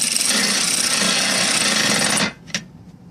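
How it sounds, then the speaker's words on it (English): A cordless impact gun runs at controlled speed on bolts of a third brake light assembly on a 2015-2020 Cadillac Escalade, a steady close buzzing whir for about two seconds that stops abruptly, followed by a single light click. "what I'm doing is controlling the speed of the cordless gun"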